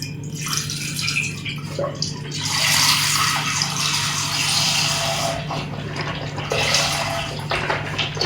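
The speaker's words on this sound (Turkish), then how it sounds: "önce sütümüzü koyuyoruz. Böyle bir litre." A liter of milk poured from a carton into a pot for a no-bake chocolate biscuit cake, a continuous close splashing gurgle that swells and eases over several seconds under a steady background hum.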